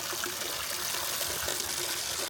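Spring water at Nikko Toshogu Shrine trickles and splashes steadily, a close, continuous watery wash with no voices, ending abruptly.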